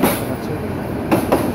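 Karnaphuli Commuter train passing Karwan Bazar in Dhaka, a continuous rumbling roar of railcars with a couple of sharper clacks near the end, heard close by.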